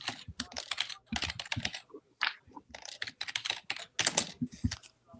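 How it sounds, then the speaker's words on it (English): Rapid computer keyboard typing in a radio studio, close and alone, in quick bursts of keystrokes separated by short pauses. "I heard Dick or somebody typing, and it frightened me"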